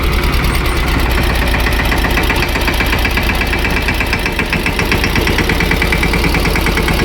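A tractor engine runs loud and close, its steady rapid chugging pulsing without a break throughout.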